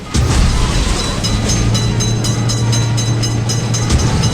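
A train rolls past a level crossing with steady, loud low rumble and rail noise throughout, a sustained low tone running through the middle, with rhythmic clatter from the wagons; no one speaks.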